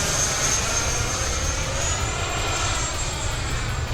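An E-flite F-16 80mm electric ducted-fan RC jet streaks overhead, giving a continuous loud whooshing whine with a slight pitch drift as it climbs and loops, with no talk.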